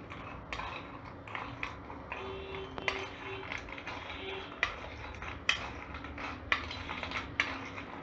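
Crispy fried pasta tossed with spice in a metal bowl or pan, a steady series of light clinking, rattling scrapes with sharper ticks every second or so, fairly quiet with no talking.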